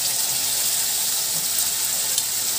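Spice paste sizzles in hot oil with pumpkin in a pan, a steady close frying hiss that runs unbroken throughout with no talk.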